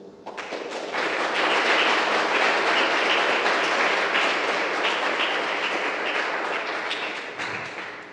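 A church congregation applauds together, a thick, steady wash of clapping that swells quickly, holds loud for several seconds and then tapers slightly toward the end, with no talking over it.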